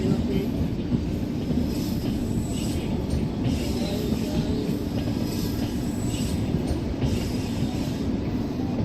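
Indian express train running in Train Simulator, the Nagercoil–Chennai route on Southern Railway, a loud, steady rumble of wheels on track with rhythmic clatter and faint squeals, and a voice talking over it.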